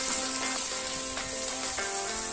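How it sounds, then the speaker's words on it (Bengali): Small crabs in a spicy masala curry stir-fried in a pan, a steady close sizzle running throughout with faint scraping of the spoon as it is stirred. "দিয়ে আমি নেড়ে চেড়ে অনবরত কষাতে থাকবো"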